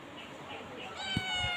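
A pet cat gives a short meow near the end, thin and fairly close, over quiet background noise and faint voices.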